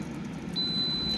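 An air fryer in a home kitchen sounds a single steady high-pitched electronic beep, starting partway through and holding to the end, with a faint background hum.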